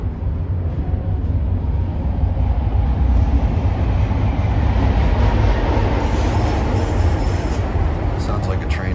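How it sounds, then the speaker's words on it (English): A train rumbles loudly and steadily nearby as it pulls into CTA Fullerton Station in Chicago, with a continuous low roar and faint high wheel squeal. "Sounds like a train is here."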